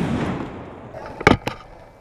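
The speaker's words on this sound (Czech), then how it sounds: "Jelikož to byla pouze samotná petarda" A firecracker thrown as an airsoft grenade goes off indoors during close-quarters play: a sharp, loud bang with a quick second crack after it, following a stretch of rustling movement.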